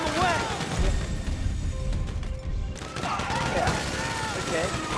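Grand Theft Auto V gunfire during the Paleto heist: dense bursts of shots, crashes and impacts fill the whole stretch, loud and continuous, with game voices in the mix.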